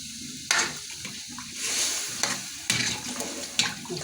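Water poured into potatoes cooking in a hot pan, setting off loud bursts of sizzling and hissing that flare and die back several times over a steady frying crackle.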